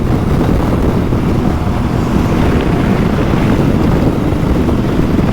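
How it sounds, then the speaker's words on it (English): Loud, constant roaring buffet of turbulent wind over the windscreen of a BMW R18 Bagger motorcycle at speed alongside a lorry, dense and rumbling with no breaks, like air battering past a rider. "that's definitely a little bit of turbulent air coming over the top of the screen"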